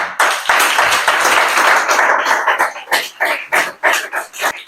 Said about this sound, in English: je m'en voudrais ne pas vous demander d'applaudir pour vous-même